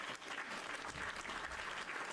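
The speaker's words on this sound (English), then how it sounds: "We gotta give Kimmy a round of applause, everybody" A short burst of applause sound effect on a Minecraft stream, steady clapping and cheering noise filling the whole moment at moderate level with no voice over it.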